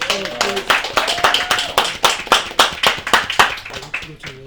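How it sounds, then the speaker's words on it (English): A film festival Q&A audience claps in a brisk round of applause, sharp distinct hand claps from a modest crowd, close and fairly loud, with voices briefly mixed in. "Round of applause for that"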